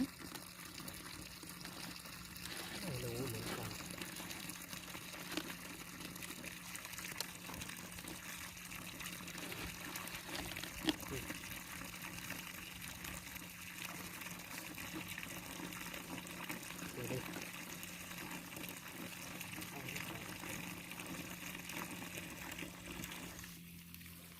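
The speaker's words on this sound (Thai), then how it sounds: "น้ำเยอะมากเลย" Water from a pump flowing steadily into a well in Thailand, a continuous close gushing rush lasting the whole stretch with no voices.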